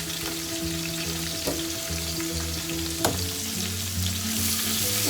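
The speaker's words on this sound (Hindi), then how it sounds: "ज़ीरा हमारा ब्राउन हो चुका है, और अभी हम प्याज ऐड करेंगे।" Chopped onions go into hot oil with cumin seeds already browned, frying for Kashmiri pulao; a steady close sizzle runs throughout, with a couple of sharp clinks of a spoon against the pan along the way.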